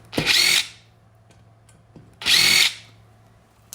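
Power screwdriver backing screws out of the metal casing of a KS0-PRO crypto mining rig: two loud whirring bursts about two seconds apart, each roughly half a second long, close by with a faint hum between.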